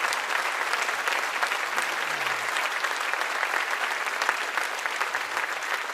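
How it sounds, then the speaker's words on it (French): A theatre audience at a 2017 music-hall show applauds the volunteers, dense steady clapping filling the room for the whole stretch without a break, fairly loud and with no voices over it. "vous pouvez les applaudir très très fort"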